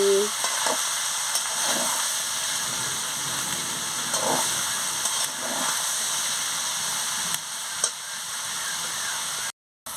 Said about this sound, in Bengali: এবার আমি সব সবজিগুলোকে তুলে দিচ্ছি ভালো করে সবজিগুলোকে নাড়িয়ে নিচ্ছি